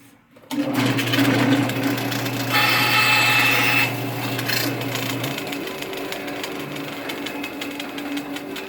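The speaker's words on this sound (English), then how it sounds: "And I cut that blank off." A power saw on a jig cuts a wooden pen blank, starting abruptly with a steady, loud motor whine, a harsher cutting burst in the middle, then winding down as the blade spins on.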